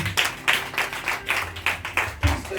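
A church congregation claps together in a steady rhythmic beat to acclaim Jesus, about two claps per second, close and clear, with faint voices underneath.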